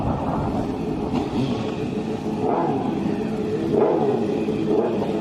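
A Yamaha racing motorcycle pulls away from the start of the Manx Grand Prix Senior race, its engine a steady low rumble that rises in a couple of revving surges, heard at moderate distance without speech.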